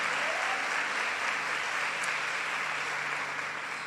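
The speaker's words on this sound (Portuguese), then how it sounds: "Pode aplaudir o Senhor." A church congregation applauds steadily for about four seconds, a dense, even wash of clapping at moderate level with no voices over it.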